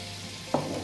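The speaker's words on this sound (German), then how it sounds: "Die Karamell brennt doch sau schnell an. Eben. Aber rühren, rühren." Caramel sizzles in a hot pan on the stovetop while being stirred, a short burst of frying hiss that flares up suddenly, then settles into a steady sizzle.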